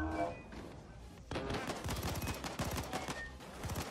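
Rapid gunfire in the heist shooter Payday 2: dense, loud bursts of automatic fire crackling over a busy firefight, continuous across the clip with no clear talk.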